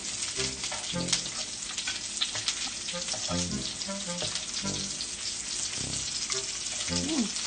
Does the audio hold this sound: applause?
no